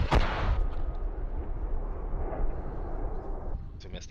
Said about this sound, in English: There's an explosion. The power pole is getting targeted.